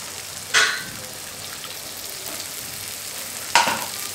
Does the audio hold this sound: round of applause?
no